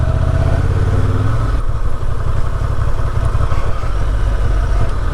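A 2023 Honda Transalp 750 motorcycle engine runs loud and close, rumbling steadily as it revs and pulls away, with no talking.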